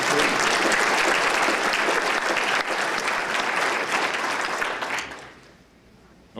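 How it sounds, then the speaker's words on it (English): Sustained audience applause at an American Legion award ceremony in Indiana honoring students, a dense steady clatter of many hands that holds loud for about five seconds, then fades. "let's please give them another round of applause."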